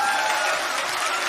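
A church congregation at a Palm Sunday service applauds in a dense, continuous wash of clapping that holds steady and fairly loud, with no single voice standing out.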